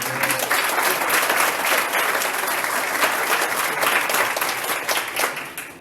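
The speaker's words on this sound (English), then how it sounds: "How about a round of applause for Jacob?" Applause from an audience at a 2016 school jazz band concert after a drum solo, sustained loud clapping with some distinct claps standing out, easing slightly near the end.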